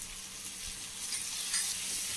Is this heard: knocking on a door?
no